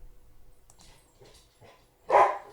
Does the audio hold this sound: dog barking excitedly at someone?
yes